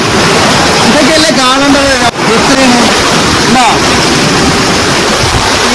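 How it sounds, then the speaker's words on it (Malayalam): Palakkuzhi waterfalls near Vadakkencherry roar as a loud, steady wash of falling water that fills the scene, while someone talks over it. "പാലക്കുഴി വാട്ടർഫാൾസ് കേട്ടോ"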